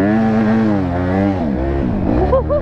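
DRZ supermoto motorcycle spinning its rear wheel in sand off-road, engine revving loud and close with rising and falling pitch across a few seconds.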